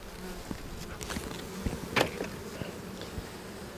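Honeybees buzzing across an open spring hive being worked, a steady mid-close drone with a few louder passes of individual bees near the listener.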